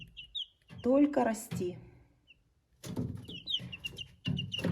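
Young chicks cheep in a warm brooder, giving faint, high, scattered peeps that are close by, with a voice talking over part of it.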